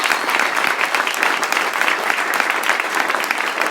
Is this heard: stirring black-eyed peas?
no